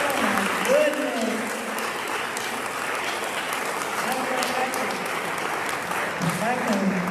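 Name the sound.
audience applause for musicians at a music festival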